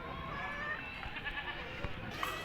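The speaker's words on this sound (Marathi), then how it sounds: "इकडं गावरान शेळ्या आणि अजून काटेवडी पण आहे" Local village goats and Katewadi goats bleat faintly amid a steady outdoor livestock market hum at Bharadi, a few brief calls rising over the background noise.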